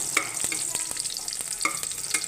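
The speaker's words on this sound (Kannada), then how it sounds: "ಅದು ಬಿಸಿ ಆದಮೇಲೆ ಮೆಣಸಿನ್ಕಾಯಿ ಹಾಕೋಣ" Green chillies fry in hot ghee and oil, a bright continuous sizzle with brisk stirring scrapes and light taps of a spoon against the pan, heard up close without talk.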